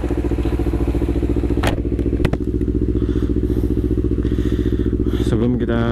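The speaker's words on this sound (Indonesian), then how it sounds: "Kita panasin dulu motornya." A motorcycle engine idles while warming up, a steady close chugging rumble throughout with a couple of sharp clacks and a brief rev near the end.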